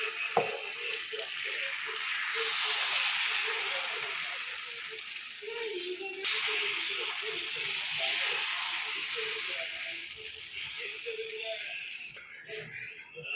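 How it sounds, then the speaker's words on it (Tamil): Dosa batter made with mukkuttai spinach sizzles on a hot stone griddle: a close, bright hiss that swells, briefly breaks, then surges again and holds steady before fading near the end. "இப்போ கல் வச்சு கல் நல்லா காஞ்சிருச்சு தோசை ஊற்றிக்கலாம்"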